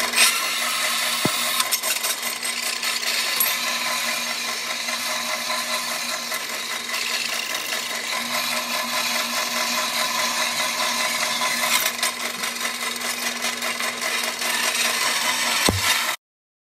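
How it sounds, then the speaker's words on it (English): A bandsaw trims an aluminum casting in a steady, continuous buzzing whine with a constant hum underneath, running alone without talk for about sixteen seconds before stopping abruptly. "So I'm going to run over to the bandsaw real fast and trim her all up."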